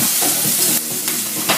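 Steak searing in a hot pan with extra virgin olive oil, a steady close sizzle and crackle running unbroken throughout, with no talk over it.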